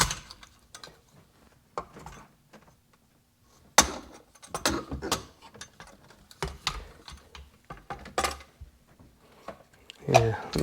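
The gears and oiler of a 2001 RXDI outboard's reel mechanism turn with quick irregular clicking and ratcheting, near and moderately loud, under someone talking.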